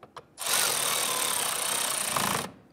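A power tool drives a screw into a fog light bracket on a Ford Explorer, giving a single steady two-second whir that starts and stops abruptly, loud and close, with no talking.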